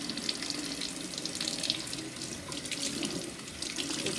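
Tap water runs steadily over a bar of soap wrapped in Corriedale sheep's wool, a close, continuous hiss and splash with slight shifting as the wrapped bar is moved under the stream.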